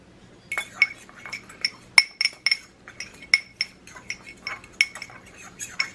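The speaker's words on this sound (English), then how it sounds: "I need a fork. Gonna stir that up." A fork stirs a lemon seasoning mix in a bowl, making rapid, irregular clinks and scrapes that ring close and bright for several seconds, with no talking.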